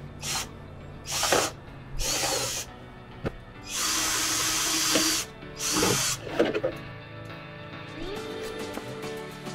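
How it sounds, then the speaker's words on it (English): A power drill bores holes into a plastic roof cargo box in several short, loud bursts, with one longer sustained run in the middle and pauses between. "So I have to take it off to drill the holes."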